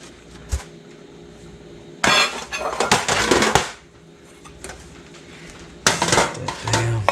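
Metal pans and a ladle clatter and clink loudly in two bursts while loaded baked beans are moved between doubled-up pans, with quiet stretches in between.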